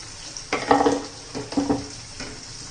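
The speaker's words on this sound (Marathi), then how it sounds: "ह्या तेलामध्ये आपलं वाटण घालून घेऊ आणि चांगलं परतून घ्यायचे" Ground masala paste for Maharashtrian prawn masala sizzles and is stirred in hot oil, giving two close bursts of frying hiss and scraping over a quieter background sizzle.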